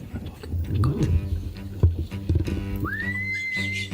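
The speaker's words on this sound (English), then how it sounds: "A whistle." A high whistle blast rises sharply and then holds steady near the end, standing out over a busy dramatic soundtrack with hoof-like thuds and low rumbling.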